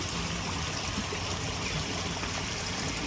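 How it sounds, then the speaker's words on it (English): Creek water babbling over stones with a small waterfall nearby, a steady, continuous rushing and trickling wash with no voices. "it does have a little babbling brook sound"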